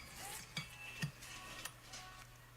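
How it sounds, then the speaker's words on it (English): Sugar being stirred into rhubarb sauce inside an Instant Pot, giving soft scraping and a few distinct clinks of a utensil against the pot over a low steady background hum. "And you want to stir it well."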